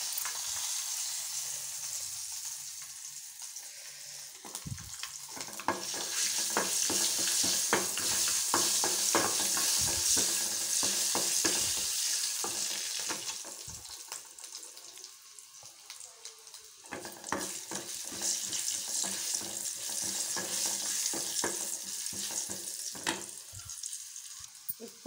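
Tempering spices sizzle and crackle in hot oil: dried red chillies, cumin, mustard seeds, urad dal and garlic, with a steady close frying hiss and occasional stirring scrapes, growing louder in the middle.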